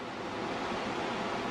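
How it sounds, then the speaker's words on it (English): Ocean waves break and wash through shallow water at a beach just after sunset, a steady close roar of surf with no voices. "looking at these waves and going through shallow water."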